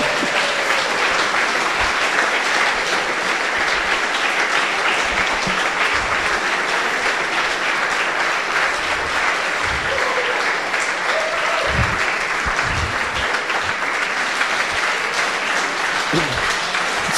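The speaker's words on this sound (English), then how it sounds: "why don't you clap along?" Conference audience at the State of the Map 2018 closing session clapping along steadily, a dense, sustained wash of applause filling the room without a break.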